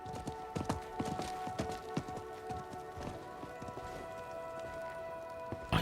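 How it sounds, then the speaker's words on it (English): Horse hooves clip-clopping in the Diablo 4 video game, a quick run of close, distinct hoof strikes over a faint tonal game backdrop that thins out toward the end. "I think that was the merchant's horse"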